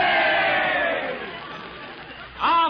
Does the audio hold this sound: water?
no